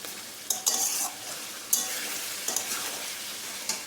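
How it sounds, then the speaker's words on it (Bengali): Meat sautéed (kosha) in a pan on a gas flame, a soft steady sizzle broken by several close scraping stirs of a spatula against the pan, fairly quiet, with no speech. "কষানো হয়ে এসছে মাংসটা"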